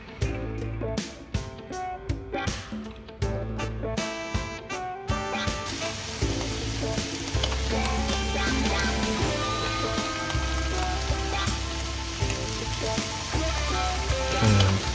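Onion and green chili sizzling in a pan for canned tuna sisig. A steady frying hiss runs throughout, mixed with busy background music.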